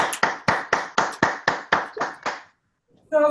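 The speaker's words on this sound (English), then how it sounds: "Let's give her a round of applause." An audience claps in a steady, even rhythm at a networking business talk, about nine crisp beats close together, then stops; a voice starts after a short pause.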